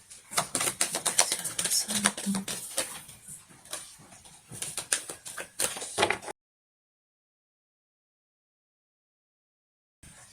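Tarot cards are shuffled by hand in quick, dense clicking riffles that run for about six seconds, then stop abruptly into silence, with a brief rustle at the very end.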